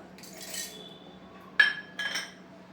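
Dry whole spices (cinnamon, cloves, pepper) dropped into a mixer jar for Mandya-style chicken curry, giving a few light clinks and rattles, one sharper clatter then a second softer one, close and quiet with no talk.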